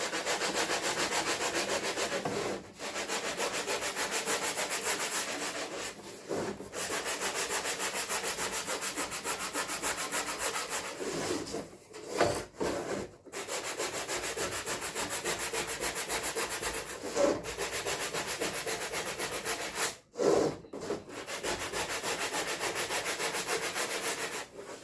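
Hand sanding scuffs a surface with steady, close, rhythmic rubbing strokes that run almost continuously, broken only by a few brief pauses.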